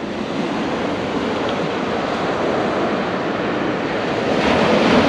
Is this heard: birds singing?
no